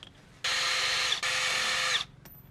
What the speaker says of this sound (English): take the screws out from the front brake, but don't take the brake off